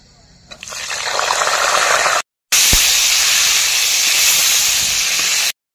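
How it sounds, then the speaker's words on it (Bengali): Cauliflower pieces frying in oil for a vegetarian biryani give a loud, close hiss that builds quickly and holds steady, with a short break partway through. "এবার আমি ফুলকপিগুলো ভেজে নিচ্ছি।"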